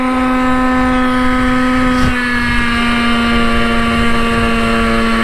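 A small two-stroke engine on a Goped GTR scooter runs steadily at high revs with a sustained, buzzing whine and wind rush, briefly dipping around the midpoint.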